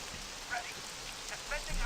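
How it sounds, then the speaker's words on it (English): Steady rain falls in a video game, a soft continuous hiss with scattered faint droplet ticks, fairly quiet and even throughout. "look at the rain"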